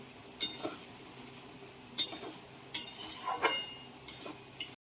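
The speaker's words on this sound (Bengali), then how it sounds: "এই গ্রেভিটা একটু কষিয়ে নেবো আমি।" Onion-free gravy is stirred and cooked down in a pan, a spoon scraping and clinking against the metal in a few separate strokes over a soft sizzle, close and fairly quiet.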